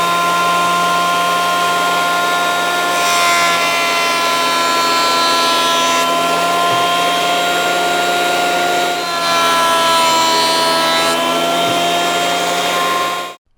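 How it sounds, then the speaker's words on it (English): Wood planer running steadily as boards for a turned inside-out Christmas ornament are fed through, a loud constant motor whine with the pitch shifting slightly as each pass loads the cutter, ending abruptly. "I want to plane the sides that are touching, so everything will be like this when it goes through the planer"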